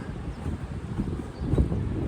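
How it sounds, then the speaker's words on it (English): Wind rushes across the microphone in low gusts on Pitch Hill, rising toward the end, with no one speaking. "Windy today."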